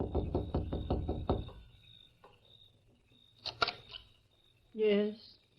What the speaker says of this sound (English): They saw Lem Foster rapping on the door.